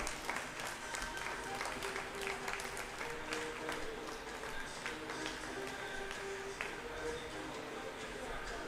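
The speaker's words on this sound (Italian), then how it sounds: "L'applauso per Matteo Fiorin" Applause for rider Matteo Fiorin after his first race at the Six Days event, steady scattered clapping that carries on throughout at moderate distance, with voices mixed in.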